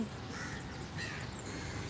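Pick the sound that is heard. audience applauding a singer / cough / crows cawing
crows cawing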